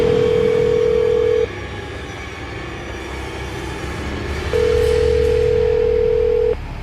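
A phone line rings out unanswered, giving two long, loud, steady tones separated by a gap of a few seconds over a low background rumble.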